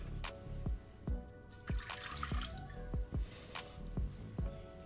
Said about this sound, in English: So I went ahead and added 8 ounces to our pot and got it to a boil.